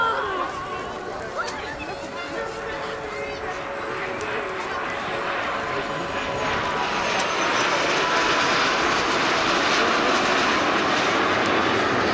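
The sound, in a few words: aircraft flying overhead at an airshow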